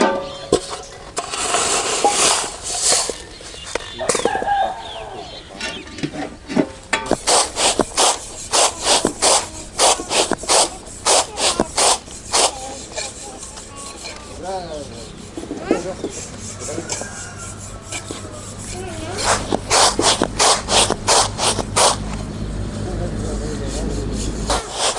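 Pearl millet being rubbed clean inside a sack, a run of rhythmic rasping, scrubbing strokes in quick bursts, close and fairly loud, with people talking now and then.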